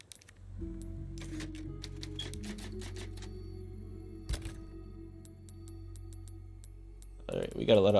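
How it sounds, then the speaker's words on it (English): Typewriter keys clacking in the Resident Evil 4 Remake game, a series of sharp, moderately loud strikes in quick bursts over a steady low ambient hum, ending in a louder burst of sound. "Oh, there's a typewriter?"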